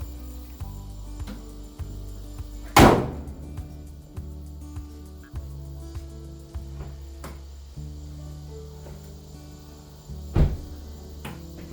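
A car hood slams shut after an oil change, a single loud, sharp metallic thump up close, followed later by a second, fainter knock against a quiet background.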